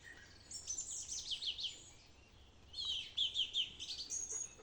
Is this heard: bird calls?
yes